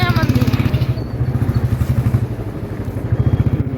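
A motorcycle engine idles up close with a steady, throbbing putter as the bike is parked near a temple entrance in Kangra, Himachal Pradesh, its beat holding loud and even throughout.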